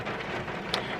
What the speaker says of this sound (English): so I'm sorry if you hear the rain in the background